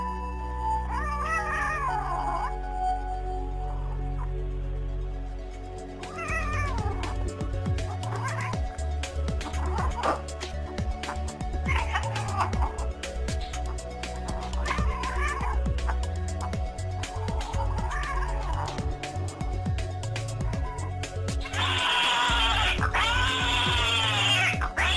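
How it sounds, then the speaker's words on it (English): Male cats fighting over a female in heat yowl and wail in drawn-out, rising cries, repeated at intervals over a low background bed, with a louder shrill screech near the end. "The males will fight over her and the victor wins the right to mate."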